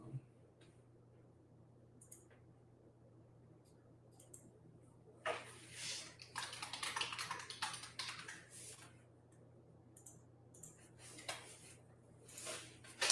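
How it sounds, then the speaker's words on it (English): Typing on a computer keyboard during a live art session, quiet, close bursts of rapid key clicks separated by short pauses, with a faint background hum. "I'm done with that typing."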